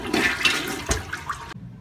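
A toilet tank fills with rushing water right after its supply valve opens, a loud close hiss and gurgle that runs steadily for under two seconds before cutting off abruptly.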